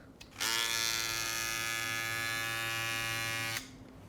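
An FXONE Boost+ hair clipper switches on and runs at 6,800 RPM, a loud steady high-pitched motor buzz held for about three seconds before cutting off.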